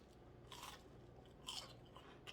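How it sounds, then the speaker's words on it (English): A crispy potato latke salted on top is bitten and chewed close up, giving a few sharp crunches against a quiet background with no voices. "You can hear that crunch to it too"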